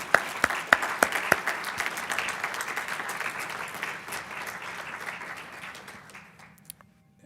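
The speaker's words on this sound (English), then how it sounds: "Can we give them a round of applause?" Audience applause at a community business event, a crowd clapping steadily with a few sharp claps standing out early, then fading out over several seconds.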